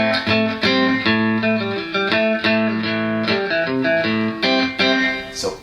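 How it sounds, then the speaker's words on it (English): Electric guitar chords run through a Boss DD3 delay pedal set to a short slapback echo, a bright, metallic doubling that trails each strum in a choppy rhythm of repeated chords, loud and alone. "So the short setting, it has a kind of a slap back effect"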